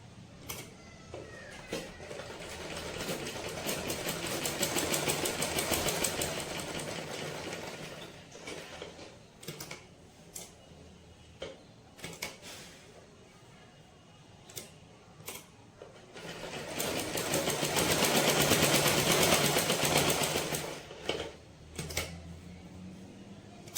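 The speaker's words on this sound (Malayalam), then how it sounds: "ഇതിന്റെ മുകളിൽ തന്നെ വെച്ചിട്ട് സ്റ്റിച്ച് ചെയ്തെടുക്കാം." A sewing machine stitches embroidery on fabric in bursts of fast, even mechanical whirring, two longer runs separated by quieter pauses with scattered clicks and handling taps, no talk.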